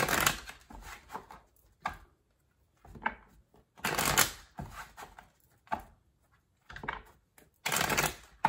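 A tarot card deck is shuffled in repeated bursts of riffling and sliding cards, close and fairly quiet, separated by short pauses with no talking.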